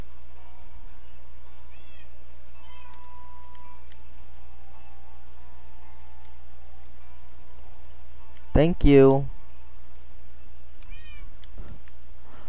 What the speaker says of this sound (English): these cats are gonna drive me insane